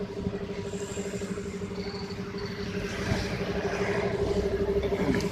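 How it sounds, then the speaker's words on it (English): Motor-driven air compressor running at a roadside puncture repair shop, a steady loud droning hum with constant mechanical tone, continuous throughout and mixed with outdoor street background. "the air compressor is getting filled by air. Motor is attached to there."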